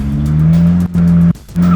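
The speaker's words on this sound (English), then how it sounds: "So that's your simple drift entry to start with." A car drifts with its tires squealing loud and close. A sustained, high, tonal screech breaks off twice, briefly, and picks up again as the engine roars underneath, with no talking.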